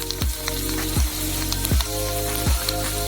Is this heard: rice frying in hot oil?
yes